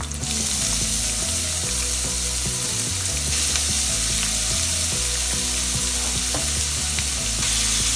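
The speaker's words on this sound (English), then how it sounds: "Now after adding onions, again saute this mixture once again." Onions sauteing in a pan for tomato thokku, a loud, dense, continuous sizzle close by, with no talk.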